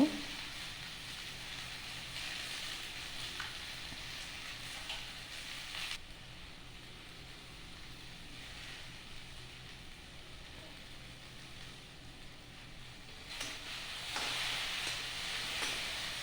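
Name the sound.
okra frying with cumin, salt, turmeric and green chilli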